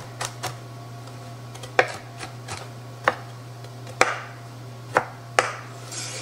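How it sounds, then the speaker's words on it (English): A kitchen knife chops bell peppers on a cutting board, with sharp, irregular knocks spaced about a second apart over a steady low hum. "I think I've chopped up too many peppers. They keep growing as you chop them."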